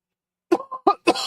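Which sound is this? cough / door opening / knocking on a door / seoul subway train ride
cough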